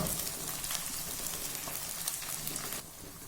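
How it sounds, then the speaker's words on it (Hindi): Cubed potatoes fry in ghee and oil in a pan, giving a steady, dense crackling sizzle that holds evenly and softens slightly near the end, with no talk. "पोटैटो को ऑयल के अंदर फ्राई करते हुए तकरीबन 5 मिनट से ज़्यादा गुजर चुका है"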